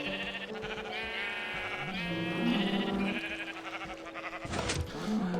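Sheep bleat in the Minecraft video game, with several wavering, nasal bleats rising above a busy, steady game background that includes a sharp burst near the end.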